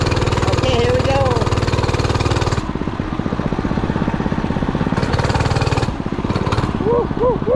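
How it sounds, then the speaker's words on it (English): A small motorbike engine buzzes loudly at high revs while ridden fast, with a steady rapid pulsing drone that shifts pitch as the rider changes speed, and a voice calls out over it. "It feels kind of scary riding so fast on a little bike this small."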